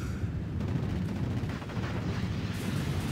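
A Typhoon aircraft strike hits a tank in Steel Division 44 Normandy, a dense, loud roar of explosive rumbling and crackling blasts filling the whole moment with heavy low-end impact.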